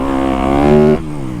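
A 2025 Yamaha YZ250F dirt bike revs hard through a sand berm, a loud, close engine note that climbs briefly and then drops off abruptly.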